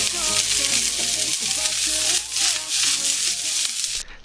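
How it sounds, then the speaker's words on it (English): Washed preserved vegetables dry-frying in a pan give a steady broadband sizzle and hiss that runs throughout, with background music playing underneath. "Add the washed veg to the pan, frying it until it's as dry as possible."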